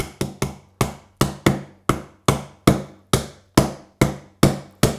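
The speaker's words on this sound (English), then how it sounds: "And then start tapping with the mallet." A wooden mallet taps a hand-cut wooden dovetail joint together in a steady series of about a dozen sharp, close knocks, each ringing briefly before the next, with no talking.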